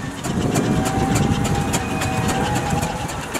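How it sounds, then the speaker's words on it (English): An 1882 McLaren traction engine built in Leeds runs at a steam and country show arena parade, a loud steady mechanical rumble with regular rhythmic chuffing beats and a faint whine, close by. "An engine with quite a lot of age to it, following on. It's a McLaren traction engine."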